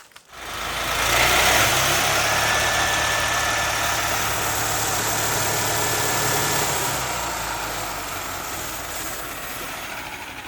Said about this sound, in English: Now let me get the sawmill started.